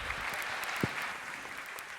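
An audience claps steadily for two seconds, a dense, even wash of many hands with a single low thump near the middle.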